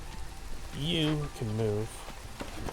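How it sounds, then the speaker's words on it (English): Drizzling rain in the video game Against the Storm, a faint steady patter that continues under someone speaking. "being that we're in the drizzle already"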